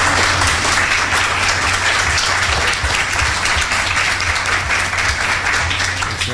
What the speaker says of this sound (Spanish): yo les agradezco y en este sincero y espontáneo aplauso